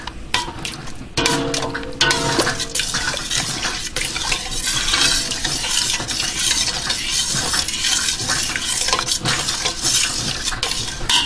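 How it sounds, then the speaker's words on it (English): Pineapple jam stirred in a pot with a spoon, giving a continuous close scraping and sloshing sound that runs steadily for about eleven seconds, with a soft bubbling sizzle beneath and no talking. "Stir it in."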